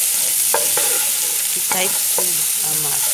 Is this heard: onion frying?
yes